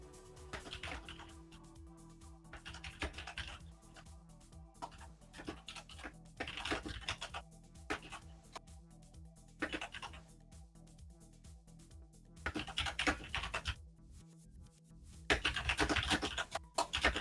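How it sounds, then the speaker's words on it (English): Computer keyboard typing caught by an open microphone during an online racing session, loud clattering keystroke bursts coming in irregular clusters, with a steady low hum underneath and no speech. "turn that keyboard up louder a little bit"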